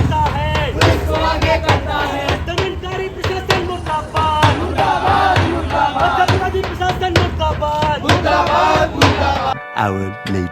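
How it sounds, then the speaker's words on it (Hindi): A crowd of students chanting in unison at an outdoor sit-in protest against BBAU, loud and continuous rhythmic slogans with many voices close by, ending abruptly. "छात्रों का धरना अभी भी चल रहा हो, काफ़ी ज़्यादा भीड़ हो चुकी है"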